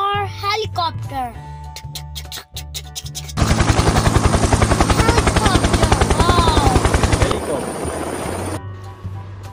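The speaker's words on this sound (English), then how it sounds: "H for helicopter. H for helicopter." A loud helicopter with fast, rhythmic rotor chopping that starts abruptly and runs several seconds; a voice talks before it begins.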